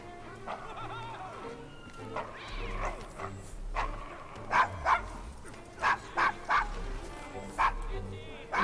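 A dog barks in the video game Assassin's Creed Syndicate, several sharp barks in an irregular series, mixed with game sounds and a brief cat-like whine.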